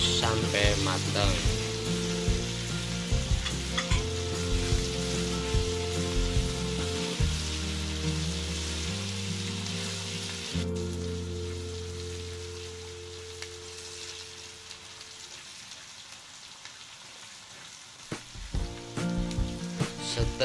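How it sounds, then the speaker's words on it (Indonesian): Ground red chilies sizzle steadily in hot oil for martabak sauce, with a continuous crackling hiss and occasional scraping of a stirring utensil, up close and without talk. "Kita goreng terus sampai matang."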